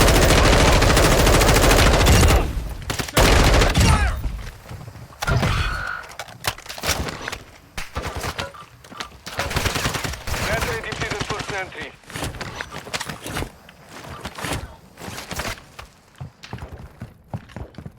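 Rapid bursts of automatic gunfire crackle loudly in Call of Duty Warzone DMZ, then scattered shots and thuds continue while people talk in Ukrainian over the action.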